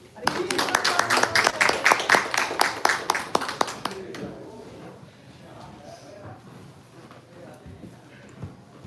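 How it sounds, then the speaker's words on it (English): An audience applauds, giving the speaker a welcome at a devotional talk. The clapping is loud and dense at the start, then stops, leaving a quieter room with faint taps. "let's give a big round of applause and welcome Vrajabhakti"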